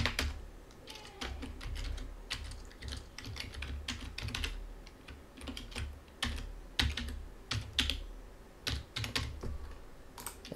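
Fingers type on a computer keyboard in quick, uneven bursts of close clicks and key taps, fairly quiet, with no one talking over them.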